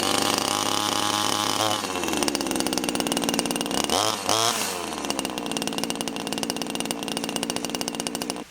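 Holzfforma JonCutter G2500 chainsaw engine running loud and close after a pull start, with a steady buzzing drone, a sharp rev and drop near the middle, then settling back to a rough, even run.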